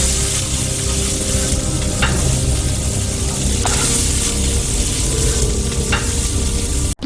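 Smoked buffalo and pork jalapeno cheddar bratwurst sausages sizzle loudly and continuously in oil on a Blackstone griddle over medium heat, with a few faint scraping clicks along the way.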